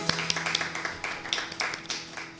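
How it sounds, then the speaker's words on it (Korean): A church congregation at a Sunday service claps together in a steady, brisk rhythm. The sharp, even claps sound close and fill a short burst with no talking. "우리 주님께 감사의 박수 올려드리기 원합니다"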